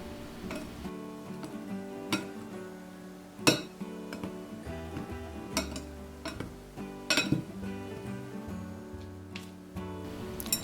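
Butter cookie ingredients, including small pieces of cut butter, mixed in a bowl, irregular clinks and taps of a utensil against the bowl, close and fairly quiet, with some louder knocks, no talking.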